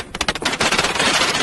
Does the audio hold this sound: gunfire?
yes